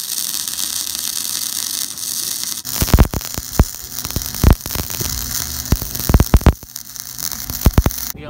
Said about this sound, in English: we're gonna go ahead and practice a bit just to make sure the settings on the welder is all good.